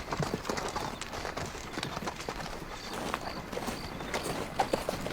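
Horses walk along in a TV western, their hooves clip-clopping in a steady uneven patter under a noisy outdoor background, with faint bird calls.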